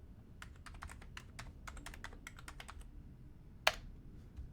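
Rapid, uneven keystrokes on a computer keyboard during an Amiga ProTracker session, a steady run of light clicks with one sharper, louder key strike near the end, all fairly close and with no voices.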